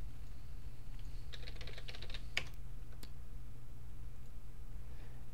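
Login name and password typed on a computer keyboard, a quick burst of soft key clicks in two short clusters over a low steady hum, fairly quiet and close.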